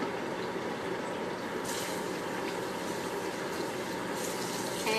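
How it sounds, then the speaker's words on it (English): Water runs steadily from a tap while hands are rinsed and washed in a kitchen after peeling potatoes, a continuous close splashing flow with a brief brighter gush near the end. "Hands rinsed off and washed."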